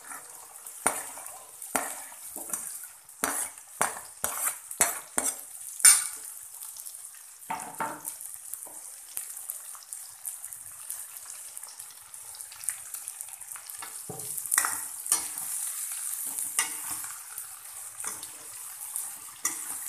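Ridge gourd and tomatoes being sautéed in a pan, with soft sizzling and scattered scraping and stirring taps coming in irregular bursts, fairly quiet and close, with no voices.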